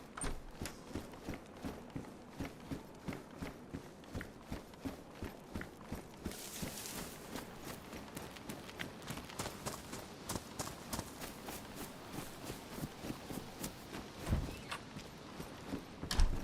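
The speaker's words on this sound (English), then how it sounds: "I swear I heard footsteps, I really do" Running footsteps from a player character in the DayZ survival game thud in a steady, quick rhythm for the whole stretch, fairly close and continuous, with no talking over them.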